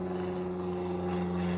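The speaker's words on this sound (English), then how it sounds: "do I have enough planes flying over this house or what?" An airplane passes over a house, a steady droning hum with strong low tones that holds level throughout, heard alone without talk.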